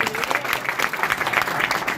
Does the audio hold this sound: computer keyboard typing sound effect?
no